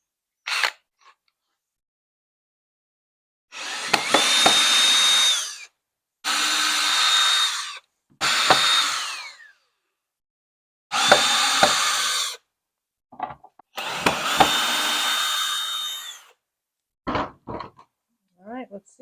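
A power drill spins out screws inside a Ram ProMaster City van in repeated whirring bursts of a few seconds each, close up, separated by silences and a few clicks.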